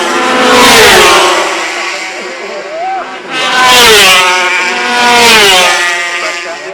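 Racing motorcycles at the Castletown post-TT road races roar past in three loud waves, engines rising and falling in pitch as each machine approaches and recedes, with a commentator talking over them.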